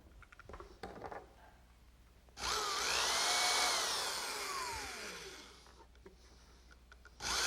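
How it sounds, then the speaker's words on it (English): A power drill bores a counterbored pilot hole for screws in a wooden rocking horse part, one loud continuous whine lasting a few seconds with pitch bending as the bit cuts, then a brief restart at the end. "I'll drill a pilot hole with a counterbore for some screws"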